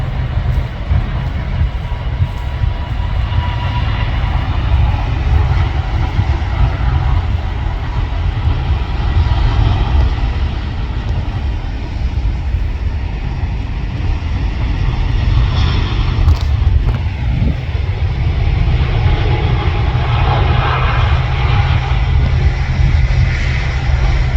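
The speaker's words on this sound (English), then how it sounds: "But anyway, A350 takeoff." An Airbus A350 airliner taking off at Manchester Airport, its jet engines giving a steady, loud, broad roar that holds for the whole stretch with no talking.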